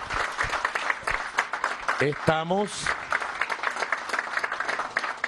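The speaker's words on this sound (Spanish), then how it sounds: "Un aplauso para Cilia" Crowd applause at a political event inaugurating a missions base, steady clapping throughout with someone briefly speaking over it midway.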